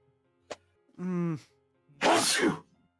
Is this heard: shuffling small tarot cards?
no